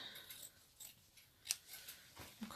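Scissors snip through paper, cutting out a toucan's head for a decoupage mixed media canvas: a handful of soft, close crisp cuts spaced irregularly, quiet with no talking.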